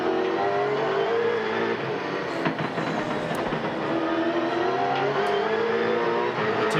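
Onboard a Castrol Holden Commodore V8 Supercar racing at Winton Raceway in 2001, its engine roars loud and constant, pitch sweeping up and down through gear changes, heard alone from inside the car.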